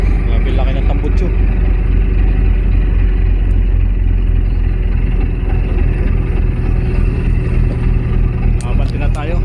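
A vehicle with a large exhaust runs loud and close, its engine a continuous low rumble throughout while someone talks over it.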